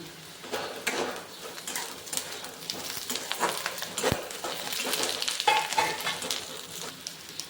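Onion, green chillies and curry leaves frying in a pan for breakfast pohe, a close, steady sizzle with scattered stirring scrapes and crackles, no talking.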